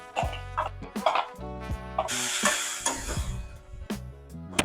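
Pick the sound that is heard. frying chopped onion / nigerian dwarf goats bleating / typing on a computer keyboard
frying chopped onion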